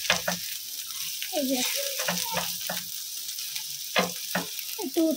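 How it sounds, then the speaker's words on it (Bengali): Thick-cut bitter gourd fries in a wok, a steady sizzle broken by repeated scraping stirs, while someone talks over the cooking. "আগে একটু উচ্ছেটা কড়াইতে দিয়ে দিয়েছি"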